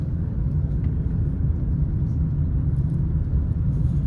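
A car engine drones steadily during a driving lesson in Nawada, Bihar, a loud continuous low rumble with slight surges as the throttle is gently pressed, no talk over it.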